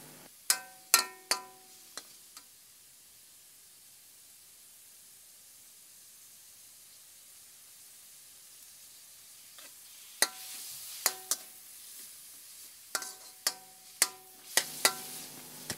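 Pork stir-frying in a wok with a little water added, soft sizzling and steam hiss under sharp spatula scrapes and clacks that come in quick bursts, near and fairly quiet, with a calmer simmer between.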